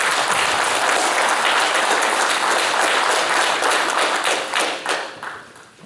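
Attendees at a township board of supervisors meeting applaud together, a close, steady round of clapping in an indoor room that tapers off and stops after about five seconds.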